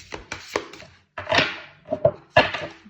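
Large oracle cards shuffled by hand, a few crisp papery riffles and slaps in short separate bursts with brief pauses between them, close and fairly loud with no one talking.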